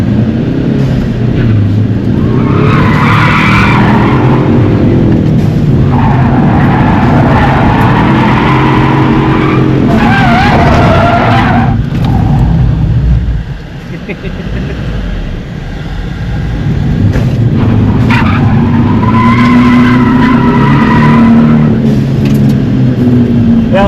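A Ford Mustang drifts at 5 Flags Speedway: a loud, close engine roars and revs in long rising and falling surges, with tire noise in the mix. The engine dips briefly midway before pulling hard again.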